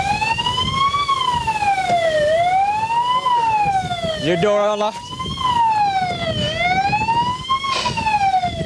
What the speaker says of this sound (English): You shut that siren off for me.